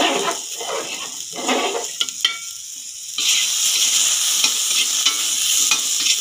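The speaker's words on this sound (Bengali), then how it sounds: "গাজরটা আমার হালকা ভাজা হয়ে গেছে" Winter carrots frying lightly in a pan, stirred in several bursts of scraping and sizzling, then a fuller, steadier sizzle takes over, heard close with no talking.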